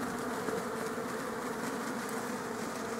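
Honeybees buzz steadily at a beehive frame, a dense, close, continuous hum with no pauses and no talk.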